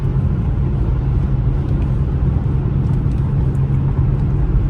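Steady low engine rumble from a BMW X3M driven in Sport Plus mode, heard from inside the cabin as a continuous, fairly loud drone with no clear rev rise.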